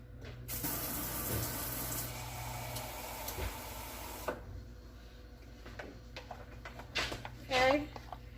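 Tap water runs into 2 tablespoons of flour in a bowl, mixing a slurry to thicken a chuck pot roast in a home kitchen; a steady rushing stream lasts several seconds, then stops, followed by faint clinks and handling sounds.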